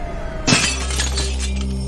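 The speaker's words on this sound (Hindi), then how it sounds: "रोज उस बंगले की किसी न किसी गाड़ी की विंडशील्ड यानी आगे का कांच कोई फोड़ देता।" A car windshield shatters with one sharp, loud crash, followed by a second or so of tinkling, crackling glass fragments over a low steady hum.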